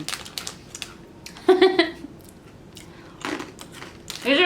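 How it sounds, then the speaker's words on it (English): Crunchy spicy Japanese snack sticks being bitten and chewed close up, a few sharp crunching bursts separated by quieter pauses. "They're like really hard and crunchy."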